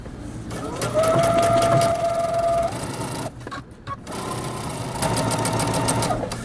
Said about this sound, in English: go ahead and back stitch and then sew all the way up